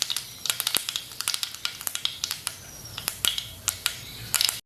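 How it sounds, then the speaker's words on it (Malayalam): Half a teaspoon of mustard seeds spluttering in hot coconut oil in a pan, a steady run of sharp, close crackles and pops over a soft sizzling hiss, quiet and unaccompanied by talk. "വെളിച്ചെണ്ണ ചൂടായി വന്നപ്പോൾ 1/2 ടീസ്പൂൺ കടുക് ഇട്ട് കൊടുത്തിട്ടുണ്ട്."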